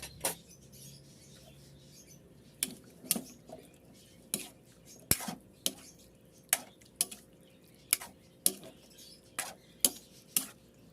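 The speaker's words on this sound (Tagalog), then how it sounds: "Haluin ng haluin at huwag hahayaang mamuo-muo ang gata." Coconut milk being stirred in a pan for Bicol Express, heard as quiet, regular clinks and scrapes of a utensil against the pan every second or so, close by over a faint background hum.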